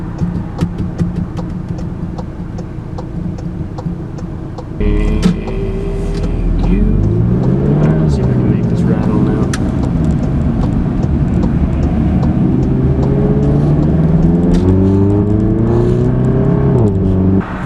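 A car with a new Circuit Works downpipe and clamp accelerates under load on the road, its engine note rising through the gears in a loud, steady drone heard from inside the cabin.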